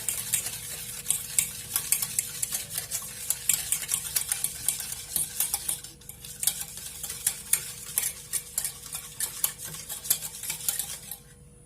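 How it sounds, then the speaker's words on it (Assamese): Powdered sugar is mixed for an eggless semolina cake, with quick, repeated scraping and clinking of a utensil against a bowl in a busy rhythm, close and moderately quiet, pausing briefly partway through, with no speech. "এইখিনি মই ইয়াতে এতিয়া মিক্স কৰি আকৌ মই ভালদৰে 5 মিনিটমান ভালদৰে মিক্স কৰিম"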